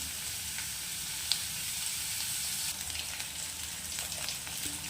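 Crab sizzles steadily while frying in a hot pan, with a dense, even hiss that stays fairly loud throughout and carries one sharp click near the start.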